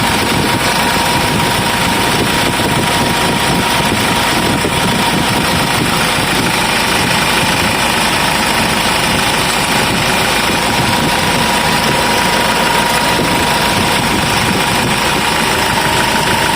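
Machine running after replacement of the bearing in its roller guide, a steady, loud, even mechanical drone with a constant hum and no knocking.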